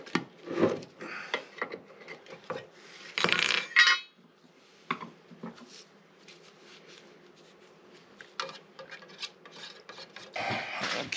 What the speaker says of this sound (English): I'm going to use General Finishes wood bowl finish on this one. Let's open it up, mix it a little bit.